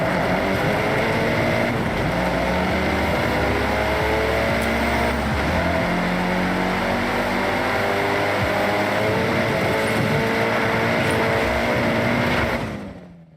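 A turbocharged rally-style car engine with anti-lag in Forza Horizon drones loudly and steadily at high revs, with gear shifts but no clearly separate pops, then cuts off abruptly at the end.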